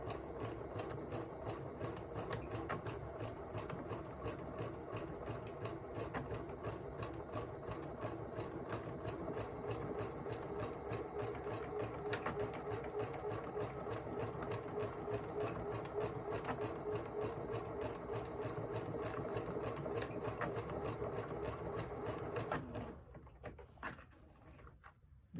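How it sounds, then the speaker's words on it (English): A sewing machine runs a zigzag stitch across a tab on a cross-body bag, a steady close whirring that runs almost continuously and then stops, leaving a few soft clicks. "and then only sew on that tab. I'm going to use a zigzag stitch."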